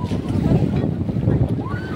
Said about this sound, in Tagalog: lakas ng alon. Hindi kami makaalis.